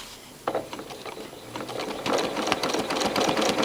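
A sewing machine runs steadily, free-motion quilting a grid-based design on fabric. Its fast rhythmic stitching chatters close by, briefly slows, then speeds up again.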